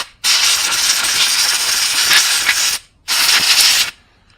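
Compressed air blowing onto a dirty plastic Briggs & Stratton carburetor during cleaning, heard as two loud, steady broadband hissing blasts, the first about two and a half seconds long and the second shorter, with a brief gap between them.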